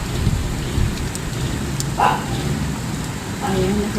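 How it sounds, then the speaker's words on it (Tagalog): Heavy morning rain pours down in the Philippines, a thick, continuous roar of drops on surfaces with low rumbling underneath and a few faint, brief sounds rising over it. "ang lakas-lakas na ulan, maaga pa dito sa Pilipinas."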